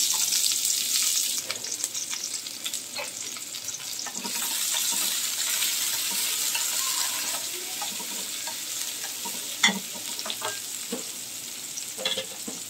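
Chopped garlic, onion and green chilli fry in a tablespoon of oil, giving a steady bright sizzle with scattered crackles and occasional stirring scrapes, close and fairly loud throughout, with no talking.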